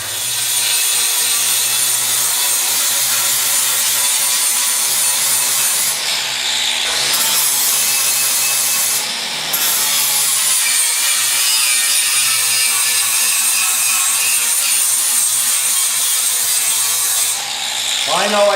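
An angle grinder grinds a steel spill guard on a Kubota B Series loader bucket, a loud, continuous high screech with brief pauses and pitch shifts.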